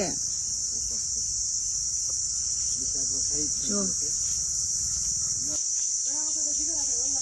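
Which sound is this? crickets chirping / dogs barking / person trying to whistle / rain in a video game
crickets chirping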